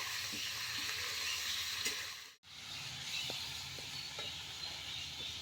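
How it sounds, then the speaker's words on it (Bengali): Chicken pieces fry in a pan for a chicken curry, giving off a faint, steady sizzle and hiss with a few small pops and one brief dropout midway. "মাংসটা ভালো মতো ভাজা করে নিচ্ছি"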